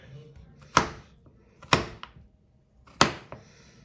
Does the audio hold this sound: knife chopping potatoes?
yes